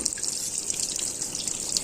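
Water streams steadily into a top-load washing machine as it fills, a constant close rushing and trickling with no voices.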